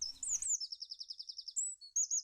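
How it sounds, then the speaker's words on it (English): Rapid high-pitched cheeping from baby chicks, a quick rhythmic run of repeated chirps followed by a few longer calls, close and fairly clear with no talking. "Now I have 3 baby chicks on my head, and 2 birds and a nest."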